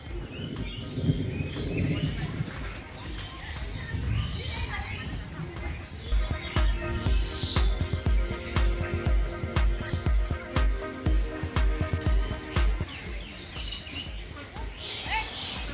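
Birds chirp and call around a walkway at Bali Bird Park, a busy outdoor aviary, with bright bursts and a quick, rhythmic clopping patter in the middle, mixed with visitor chatter.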